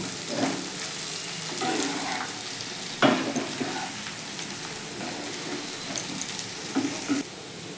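Flattened rice is gently stirred with vegetables, fried peanuts and cashews in a pan, giving soft scraping strokes and a light sizzle, with one sharper knock of the spoon partway through.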